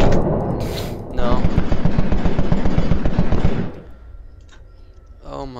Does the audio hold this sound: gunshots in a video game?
yes